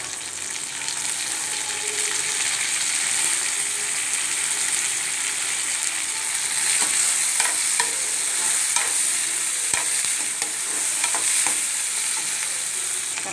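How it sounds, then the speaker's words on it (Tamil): Onion and tomato sautéing in a pan for carrot chutney, a steady close sizzle with repeated scraping stirs throughout and no voices. "தக்காளி வதங்க ஆரம்பிச்சிருக்குங்க"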